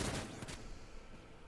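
Gunfire in the Warhammer 40k Rogue Trader game, with a quick rattling burst of shots up front that fades into a low, decaying rumble, all in about a second and a half.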